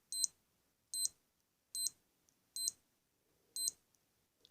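A Timex Ironman Triathlon digital watch with hourly chime on emits five short, high-pitched beeps on button presses, evenly spaced about a second apart, close and clear against near silence.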